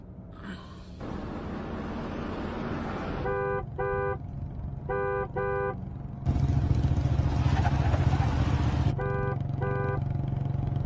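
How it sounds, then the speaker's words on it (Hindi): A car horn honks in quick double beeps, repeated several times over a loud, rumbling engine and traffic noise. "अरे सर कब से हॉर्न बजा रहा हूं, साइड ही नहीं दे रहा है।"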